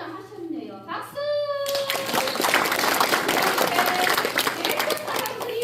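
Audience in a community hall bursts into sustained clapping after a brief pause in a speaker's talk, the applause loud and steady, with a voice and other voices briefly audible early on.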